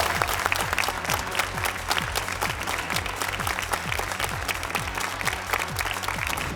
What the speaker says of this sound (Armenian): եկեք ծափարենք Արեգին